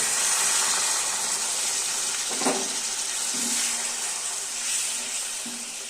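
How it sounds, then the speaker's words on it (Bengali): A small amount of water pours into a pan of egg curry just after yogurt has gone in, giving a soft, steady hiss and splash of liquid with a few faint clinks. "এবার সামান্য জল দেব।"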